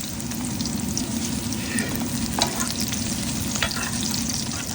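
Garlic, ginger and onion sizzle steadily in hot oil in a pan, a dense continuous frying hiss broken by a few soft stirring scrapes, close and even throughout with no one speaking.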